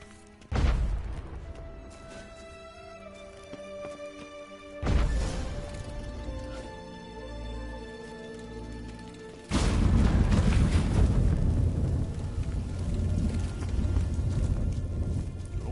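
Firecrackers go off in The Witcher 3: three loud, booming bangs spaced several seconds apart, each leaving a long, rumbling decay. No one speaks over them.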